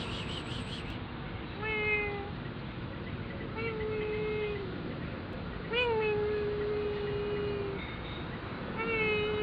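A cat meows repeatedly, several drawn-out cries spaced a few seconds apart, over a constant low background rumble.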